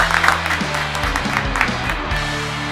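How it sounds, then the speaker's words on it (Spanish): Studio audience claps for an Argentine cuarteto band on a radio show, an even round of applause with a faint musical tone and bits of voice sitting underneath it. "Bueno, un aplauso."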